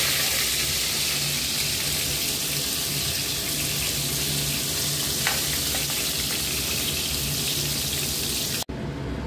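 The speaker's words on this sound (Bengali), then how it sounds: "এইভাবে আমি সব চিকেনগুলোকে ভেজে নিলাম।" Chicken pieces fry in oil in a wok, a loud steady close sizzle that runs unbroken for several seconds before cutting off abruptly near the end, with no voices.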